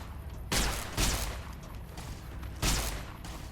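Laser weapon fire aimed at Robo-Scorpions in a video game: three sharp bursts, each a loud broadband blast trailing off over about half a second, against a steady noisy game background, with no talk.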